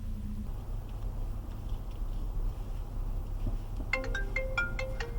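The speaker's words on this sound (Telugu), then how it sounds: "ఓ ఫోన్ వచ్చింది సార్." A mobile phone ringtone plays a bright, repeating electronic melody that starts partway through, heard nearby over a low steady hum while someone rides in a chauffeured car.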